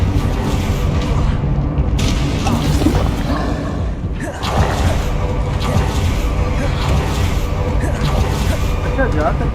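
Confringo blasting spell explosions in the video game Hogwarts Legacy, loud booming bursts over continuous dense game noise and music, with a brief dip near the middle before the din resumes.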